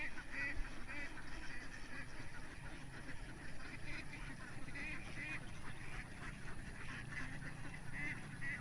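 Nasal quacks and honks from a large flock of ducks on a Philippine duck farm repeat irregularly over a steady, crowded background murmur. The birds sound moderately distant and nobody talks.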